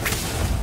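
Casting of the Apugno spell in the Harry Potter Magic Awakened video game, a single short thud with a whipping swish, loud against steady game noise.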